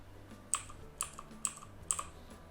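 Text is typed on a computer keyboard as four crisp, evenly spaced key clicks about half a second apart, heard close up and alone against a quiet background hum.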